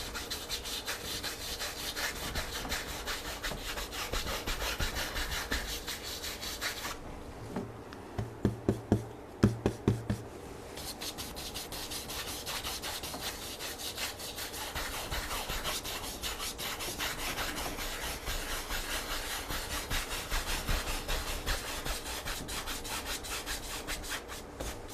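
A 2.5 inch paintbrush drawn across a painting surface, giving steady, close scratchy bristle strokes in a continuous back-and-forth rhythm, with a short pause broken by a few taps before the brushing resumes.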